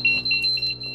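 A radiation dosimeter alarm gives a rapid, loud electronic beeping in short repeated high pulses, close and steady over a low hum, with no talk.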